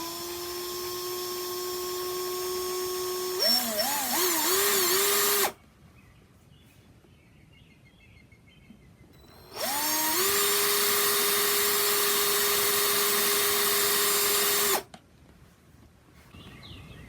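A power drill bores pilot holes into a leather saddle seat for a monogram, with two bursts of steady high whine, each several seconds long and ramping in pitch at the start, separated by a quiet pause.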